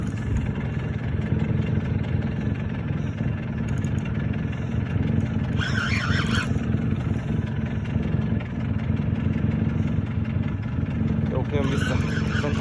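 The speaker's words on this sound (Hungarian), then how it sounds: "Leállítottad a motort" A boat motor running steadily on the Drava river during a catfish outing, a continuous low engine drone throughout with brief higher bursts of noise, and people talking over it.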